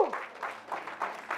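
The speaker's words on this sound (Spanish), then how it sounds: "¿Alguien le puede dar un aplauso a Cristo?" A church congregation applauds in a short burst of rhythmic clapping, moderately loud and filling the room, with no talk over it.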